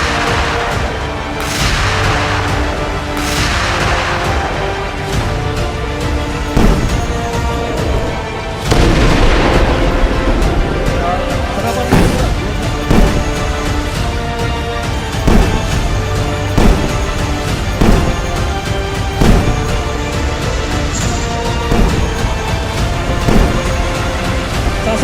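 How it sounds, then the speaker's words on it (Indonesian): Heavy Leopard tank cannon shots boom repeatedly during a military firing exercise, some close and loud, others more distant, over a constant rumble with music-like tones underneath. "Mulai terdengar letusan-letusan tembakan dari rampur Leopard,"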